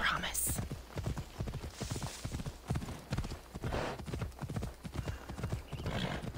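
Steady, rhythmic clip-clop of horse hooves at a brisk pace in the video game Assassin's Creed Odyssey, with an occasional whinny and a voice talking over it.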